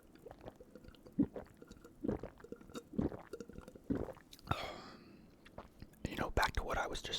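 Close, wet chewing of pasta at a Valentine's Day dinner, repeated soft squishy bites in an uneven rhythm, with whispering and quiet talk in between.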